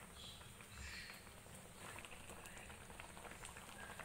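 Egg dhoka curry simmers gently in a pan on low heat, giving a faint, continuous soft bubbling and hissing patter close by, with no voices.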